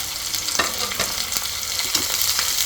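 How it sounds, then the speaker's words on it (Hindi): Curry leaves hitting hot oil in a pan with fenugreek, onion and green chili, giving a steady close sizzle with brief crackling bursts throughout, no talking. "अब इसमें डाल देंगे कड़ी पत्ता ताकि छींटे नहीं उछले"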